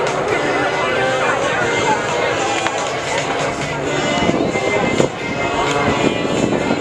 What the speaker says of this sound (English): As this is DJ's second year with the Tutor display, he is operating at a base height of 300 feet